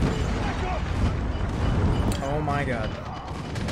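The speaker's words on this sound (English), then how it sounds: "And they already got an airstrike." Airstrike explosions and heavy gunfire rumble and crack in rapid succession in the mobile shooter Call of Duty Mobile, loud and busy, while a player talks and exclaims over the barrage.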